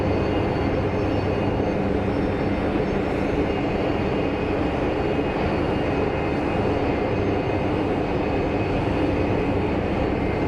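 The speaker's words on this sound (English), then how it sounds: "So right now we have A321 pushing back." An Airbus A321neo pushing back from a gate at Phoenix Sky Harbor, a steady, loud, unbroken engine hum and whine with no rise or fall and no talking.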